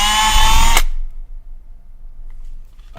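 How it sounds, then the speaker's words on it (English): A power drill bores a single hole for a hacked magnetic mount, a loud, dense whir lasting under a second before it cuts off abruptly, leaving a quiet room with a faint click near the end. "I'll mount it, I'll line this up, and I'll drill one hole."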